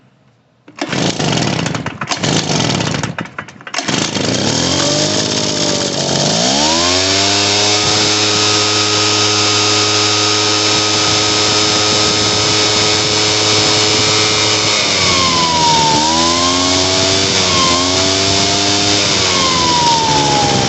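A Poulan Pro PR46BT two-stroke backpack blower engine on full choke sputters through a few cranking pulls, then catches and runs loud and steady with a strong droning whine, its pitch dipping and surging near the end.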